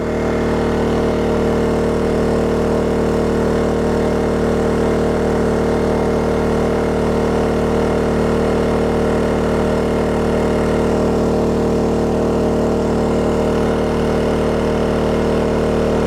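A Black Diamond inverter generator runs at high RPM with a steady, loud, droning engine hum holding a constant tone throughout, with no talk over it.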